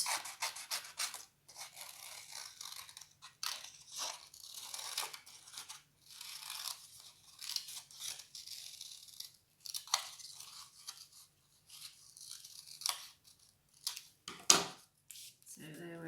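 Scissors cutting out a craft shape for a bookworm pen holder, giving quiet, close, intermittent snips and papery crunches with short pauses between cuts.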